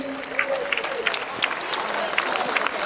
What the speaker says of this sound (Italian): facciamo l'applauso del re